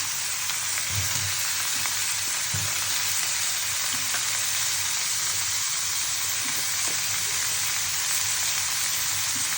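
Papaya frying in a pan, a steady close sizzle that carries on without a break and with no voices.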